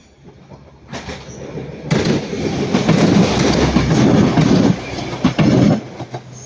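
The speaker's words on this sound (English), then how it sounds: "Passing by now is going to be a Northern Class 1 and 5 going from Manchester Piccadilly to" Northern Class 195 diesel unit running from Manchester Piccadilly to Sheffield passes close by at Ardwick, swelling from a rising rumble into loud rolling wheel noise with rhythmic clacks and sharp rail squeals before easing off.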